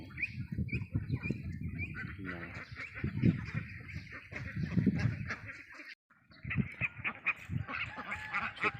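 Thai laying ducks of the Pak Nam and I-Liang breeds quack repeatedly in a flock during evening grazing on grass, close and fairly loud, with someone talking over them throughout.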